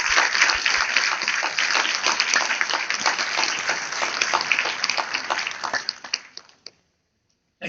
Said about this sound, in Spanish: reciban nuestro aplauso